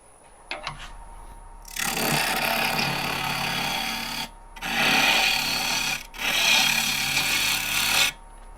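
A lathe tool cuts into a highly figured English walnut blank past a rough bandsaw cut, making loud, raspy scraping in three sustained bursts with brief pauses between them, close up and without speech.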